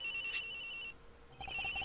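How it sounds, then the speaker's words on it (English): A cell phone ringtone in the Ace Attorney Investigations video game, a sustained electronic tone that pauses briefly and then resumes with a short repeating pattern of beeps. "The ring is coming from somewhere in here, sir."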